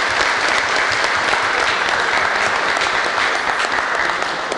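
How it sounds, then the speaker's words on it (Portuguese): A dense, continuous burst of applause fills a municipal council chamber session in Alvares Machado as the new council presidency is greeted. The loud clapping holds steady from start to end. "Uma salva de palmas para a nova presidência."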